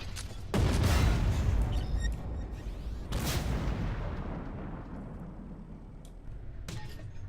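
Tank cannon fire in an armored warfare video game: two heavy booming shots with long rumbling decays, followed by a sharper report near the end, loud and close.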